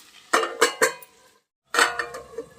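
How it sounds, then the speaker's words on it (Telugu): A lid goes onto a pot of potato curry with a few quick metallic clatters, then a pause and one more ringing clank. "మూత పెట్టేద్దాం"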